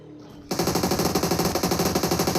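A sustained burst of rapid automatic gunfire from a BGMI esports grand-finals match starts abruptly and keeps up a fast, even rhythm, loud and close.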